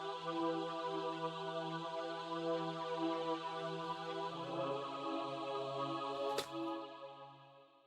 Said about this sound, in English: The second part of this is this choir, which is I think it's one of the basic Contact patches.